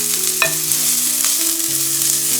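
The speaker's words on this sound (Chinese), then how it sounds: "把姜末放进来爆香。" Minced ginger sizzles and fries in hot oil in a wok, a steady close crackle with a brief scraping stir partway through, no voices.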